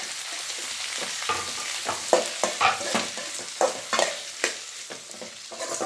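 Farm tomatoes fry in a pan for an onion chutney, giving a steady sizzle under repeated rhythmic stirring strokes heard close up. No voices are present.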